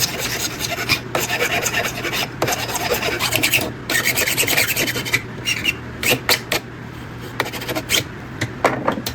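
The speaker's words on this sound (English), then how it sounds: "Now I can come back with a file and finish the job." A hand file rasps the sharp edges off a cut piece, with repeated close, loud back-and-forth strokes in an uneven rhythm and brief pauses between passes.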